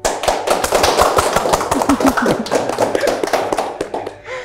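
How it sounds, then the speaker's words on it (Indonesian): Applause for two guests, Paman Kancil and Haikal, at an Indonesian talk show: a burst of many hands clapping, dense and close, fading toward the end. "Berikan tepuk tangan untuk kedua narasumber kita kali ini ialah Paman Kancil dan Haikal"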